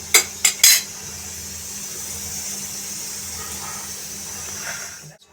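Three quick clatters as hot tempering is poured over khaman, then a steady, even sizzle holds for several seconds before fading out at the end, close and fairly loud.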